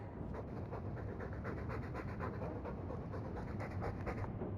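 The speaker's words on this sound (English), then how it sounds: "All that noisy dog breath, day in, day out, make him stop." A dog in Dragon Age II pants heavily and steadily, a continuous rhythmic rasp of breathing that fills the whole stretch, close and loud, with no talk over it.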